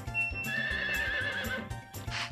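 A farm horse in the video game Harvest Moon 64 gives a clear whinny that rises and falls over about a second, with soft hoof clip-clops underneath. No one speaks.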